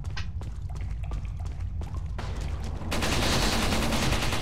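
Video game gunfire crackles as a string of sharp separate shots, then gives way to a dense continuous burst of firing that stays loud to the end.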